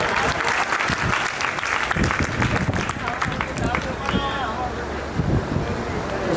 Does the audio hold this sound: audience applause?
yes